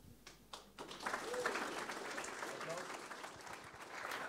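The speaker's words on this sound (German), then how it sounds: "Applaus" Audience applause at a youth hackathon project presentation in Munich, a steady crowd clapping that builds after a brief start and continues evenly throughout, with some voices mixed in.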